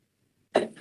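A single abrupt sneeze bursts out after near silence during a county commissioners' meeting, sharp and close, then quickly tails off.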